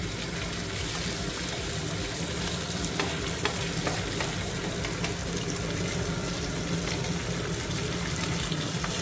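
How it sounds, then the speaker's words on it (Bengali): Steady, dense sizzling of pabda fish frying in hot oil in a pan, with occasional crackles and soft clinks, no voices. "ফ্রাই হচ্ছে পাবদা মাছ"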